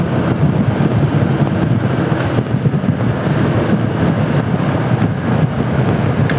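A speed motorbike's engine revving hard on a badly broken road: a steady, loud, rough roar with wind buffeting, continuous throughout and without any voices.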